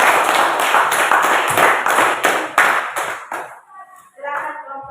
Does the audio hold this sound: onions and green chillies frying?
no